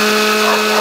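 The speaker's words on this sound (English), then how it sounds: "this is a smoothie blender, so I gotta figure out which one do I press" A smoothie blender runs on high with the ice crush setting, giving a loud, steady motor whine with a whirring, grinding edge throughout the short moment, heard close and alone.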